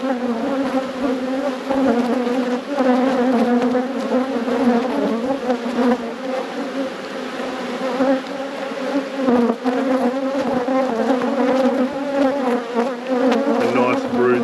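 Agitated honeybees swarm around an open hive with brood frames during a robbing event, their dense, steady buzzing loud and close for the whole stretch, with a faint voice in the background now and then.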